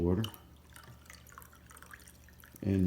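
A few small drips of water fall onto a pet stain on carpet during spot cleaning, soft and close in a quiet room, with brief bursts of a voice at the start and end.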